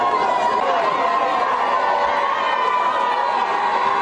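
A large outdoor crowd chatters and cheers as the president arrives, a steady dense roar of many voices with excited shouts layered throughout, holding loud and continuous from start to finish.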